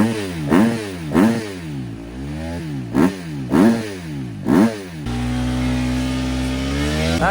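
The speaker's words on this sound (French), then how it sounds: "Attends, on va démarrer la moto." An enduro dirt bike at a beach race paddock is kicked over: five sharp engine bursts rise and fall as the starter fails to catch, then the motor fires and settles into a loud, steady idle close by.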